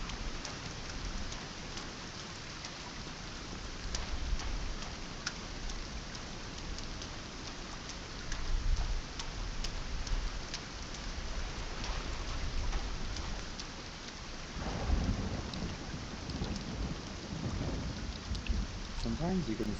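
Rain and thunder by the ocean in the video game Sons of the Forest, a constant hiss of heavy rainfall with low rumbling thunder rolling in and swelling several times, fairly faint overall.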